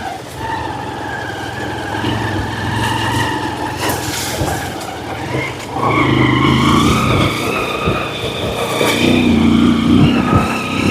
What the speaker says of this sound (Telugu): మా వాడు బైక్ దూసుకొని పోతున్నాడు, మామూలు కాదు.